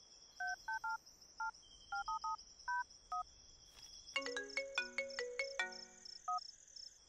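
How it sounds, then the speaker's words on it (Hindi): A phone handset gives a series of short keypad beeps, then bursts into a loud, bright electronic ringtone melody of quick repeated notes, with no voices over it. "फोन बज रहा, उठा क्यों नहीं रहा?"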